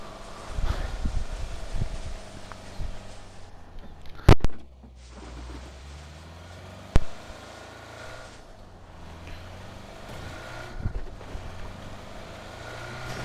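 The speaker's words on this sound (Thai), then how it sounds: "ว่าได้ยินเสียงรถนะ" A vehicle engine in PUBG: Battlegrounds drones steadily with wind-like rushing, broken by two sharp loud impacts, in a game soundscape.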